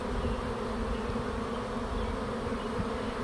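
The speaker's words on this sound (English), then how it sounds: "So while these bees are flying, they're almost constantly in communication almost with their queen" A honeybee swarm flies around the caged queen at a backyard swarm trap, a steady dense buzz of many wings close by, continuous and alone with no voices.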